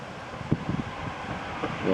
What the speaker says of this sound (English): I'd say it's very, very windy